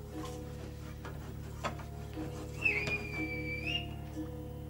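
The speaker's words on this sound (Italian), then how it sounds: "Hai sentito? Sì, un fischio. Questo è un segnale." A short, thin whistle blown as a signal rises and holds briefly, somewhat distant, over a low steady hum with a few faint knocks.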